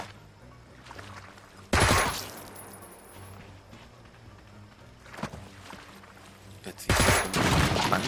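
Gunfire from Jagged Alliance 3 erupts in three loud bursts, a fusillade of shots with short pauses between, over quieter game ambience and soft movement sounds.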